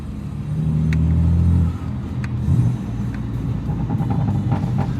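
BMW M3 Competition engine revving hard with a deep, loud low rumble that drops off midway, followed by crackling exhaust burbles and pops close by.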